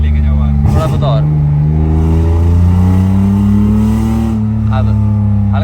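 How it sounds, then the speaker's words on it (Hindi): Car engine held at high revs, a loud steady mid-pitched drone that swells and rises slightly, with people talking over it throughout. "हाई आरपीएम पे लेके जाके चलाओ ना"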